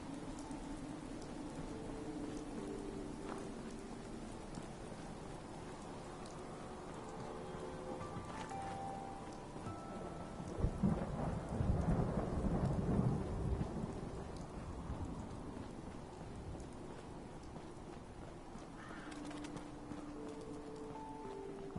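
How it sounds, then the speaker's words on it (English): Rain pours steadily in a Fallout 4 thunderstorm, with a deep rolling thunder crash swelling near the middle and fading back into the constant hiss of rainfall. "Looks like the rain is clearing out, so that's good."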